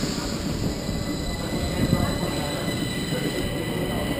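A Stockholm subway train arrives with a loud, steady metallic roar and high, sustained wheel squeal. The sound is constant and close, with no pauses.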